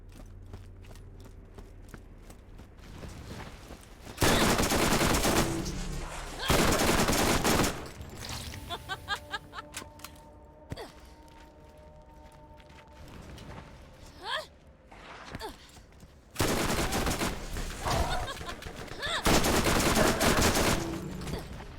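Pistol gunfire in the video game Borderlands, coming in several separate bursts of sharp shots between quieter stretches, with a few lighter clicks and effects in between.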